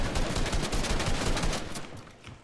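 Rapid automatic gunfire from a first-person shooter video game, a dense, fast rattle of shots lasting about two seconds that tails off slightly toward the end, with no talking over it.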